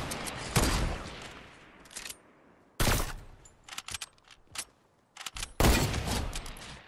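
Gunfire from the video game Fortnite comes in several loud, sharp bursts separated by quieter gaps, some shots clustered in rapid volleys, heard alone without talk.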